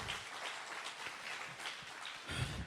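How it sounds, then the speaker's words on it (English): A church audience applauds steadily throughout, a dense wash of many hands clapping at moderate distance with no voices standing out. "Let's give my dad a round of applause for that."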